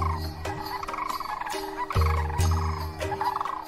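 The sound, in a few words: birds shrieking as they challenge each other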